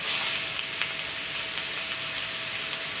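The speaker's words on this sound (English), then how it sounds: "I'm cooking mine in a pan" A burger patty for an animal-style double cheeseburger sizzles in a frying pan, a continuous even hiss of frying with no voices.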